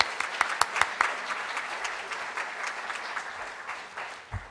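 Applause at a Rotary club meeting for three Rotaractors, a moderately faint room of hands clapping steadily, with a few sharper individual claps near the start.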